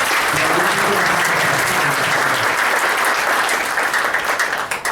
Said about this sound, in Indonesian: Boleh tepuk tangan teman-teman.